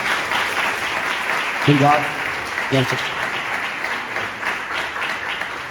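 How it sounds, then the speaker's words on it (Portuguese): An auditorium audience applauds a guest in sustained, dense clapping that continues throughout, with someone briefly speaking over it. "uma salva de palmas, por favor."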